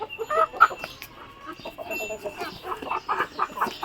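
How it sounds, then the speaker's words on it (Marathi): Patadi village hens, a country breed, clucking close by in a series of short, irregular bursts with brief pauses, with no talk. "पहिली कोंबडी आहे पाटाडी"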